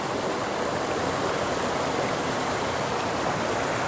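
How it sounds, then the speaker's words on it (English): Waterfalls, including a three-story one, along the San Angelo, Texas river walk pour in a steady, even rush of falling water, continuous and fairly close with no voices. "And we have these other waterfalls here."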